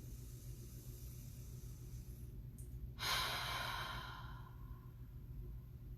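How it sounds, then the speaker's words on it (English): Near the middle comes one slow, audible exhale through an open mouth, a soft breathy rush that swells and fades over about two seconds, following a quiet inhale, during a guided relaxation. "deep breath in, open mouth, exhale"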